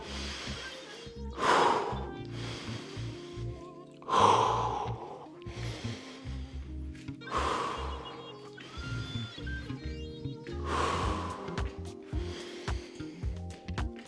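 Heavy breathing during a full-body primal movement workout with a single kettlebell: five or six loud, sharp breaths spaced a couple of seconds apart, close up, with low rustling between them and no talk.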